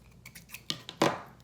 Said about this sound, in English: Cut off these corners and these corners.